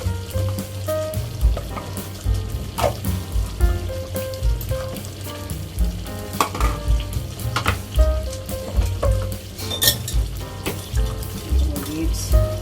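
Beef kaldereta simmering in a pot as vegetables are added, with a steady close sizzle and bubbling plus scattered clinks and stirring sounds throughout.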